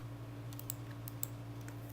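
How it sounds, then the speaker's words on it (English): Alt and M keys tapped on a computer keyboard during 3D modeling work in Blender, giving a few light, separate clicks over a steady low electrical hum. "I just hit like the Alt and the M key on my keyboard"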